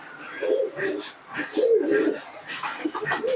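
A young Nepta pigeon and others coo in soft, repeated throaty rolls, close by, with light rustling and chatter in the background.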